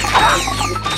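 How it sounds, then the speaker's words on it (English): Wrench melee strike in Ratchet & Clank: Going Commando, a single loud metallic crashing impact with ringing, game-music tones underneath, brief and close. "let's just use my wrench"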